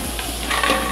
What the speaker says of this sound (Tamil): என்ன பண்ணியிருக்கோம், மீல் மேக்கர் போட்டிருக்கோம்.